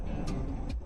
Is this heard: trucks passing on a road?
yes